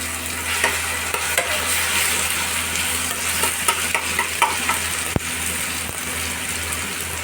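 Ginger, garlic, green and dried chili paste sizzles and fries in a pan, a steady close hiss broken by short scraping stirs and occasional clinks.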